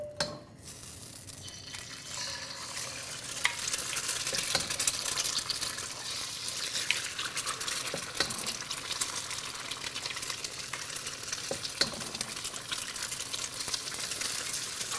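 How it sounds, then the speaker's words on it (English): Eggs scrambled in hot oil in a pan for pad thai, a steady soft sizzle with scraping and stirring clicks of a utensil against the pan throughout, close by, with no talking. "And what you want to do with the eggs here is scramble them without necessarily mixing them too much."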